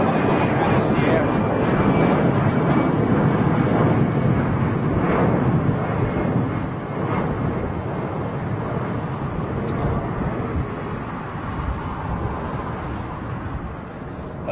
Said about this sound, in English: that's the Qatar freighter coming out of Sierra.